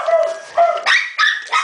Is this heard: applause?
no